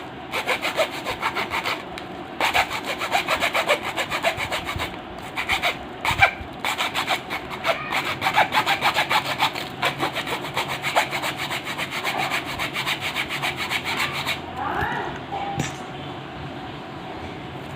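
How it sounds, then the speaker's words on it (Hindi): A hand saw cuts through a sealed capacitor in quick, steady back-and-forth rasping strokes that continue for a long stretch and briefly thin out near the end. "देखिए इसे मैं आरी से काट कर दिखा रहा हूँ।"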